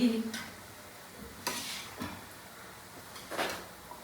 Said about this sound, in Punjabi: ਚਲੋ ਜੀ ਹੁਣ ਆਪਣੇ ਤੜਕਾ ਲਾਤਾ ਮਿਕਸ ਕਰ ਦਿੱਤੀ ਹੈ